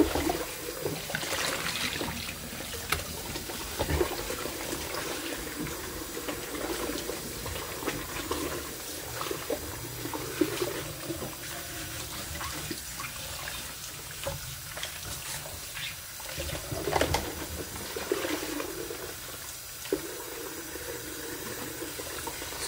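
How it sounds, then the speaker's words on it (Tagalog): Dishes being washed in a kitchen sink under running hot water, a steady close stream splashing with clinks and scrubbing sounds throughout, no talking. "pag naghuhugas ako ng mga plato or ng mga ganito, naglalagay na ako ng ng hot water"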